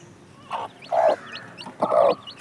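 Chickens cluck close by in a few short, separate bursts, with quiet background noise between them.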